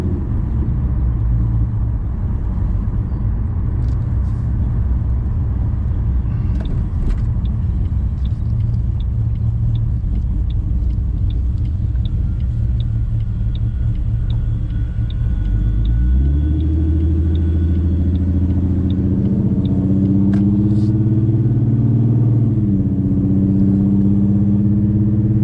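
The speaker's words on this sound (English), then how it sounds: "So the idle and everything seems good." An engine fitted with an idle chop mod settles into a steady, rumbling idle that holds for a long stretch, then shifts to a choppier, lumpier loping rhythm near the end, loud and close with no talk.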